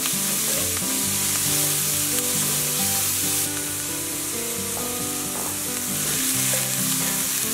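Chopped carrots sizzle and fry steadily in a pot as the base for a veggie pot pie, a continuous close crackling hiss with occasional stirring scrapes and no talking.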